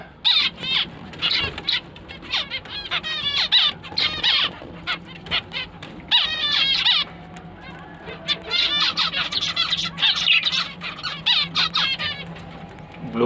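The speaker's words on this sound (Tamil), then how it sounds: "பிஞ்சஸும் அதுவும் பார்த்திங்கன்னா ஒரே பிளேஸில் வச்சுருக்கனால பிஞ்சஸ் சவுண்டு தான் அதிகமாக இருக்குது" Caged finches and lovebirds kept together chirp and twitter in rapid bursts close by, with the finches' calls dominating, and someone speaks briefly over the birdsong.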